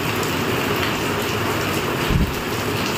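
Heavy rain pours steadily as a dense, even hiss close by, with a brief low thump partway through.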